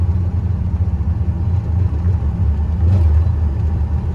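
An LT1 engine in a C3 Corvette rumbles steadily at low pitch while cruising, its tone shifting slightly as the transmission drops into a lower gear.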